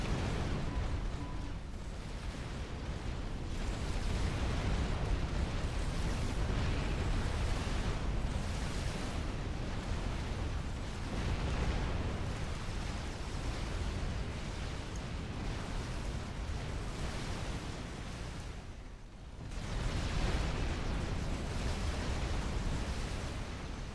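Rumbling artillery explosions in Supreme Commander: Forged Alliance, a dense, continuous roar of blasts and bursts rolling on for the whole stretch with only a brief dip near the end.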